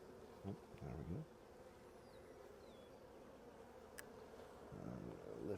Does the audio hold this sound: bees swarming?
yes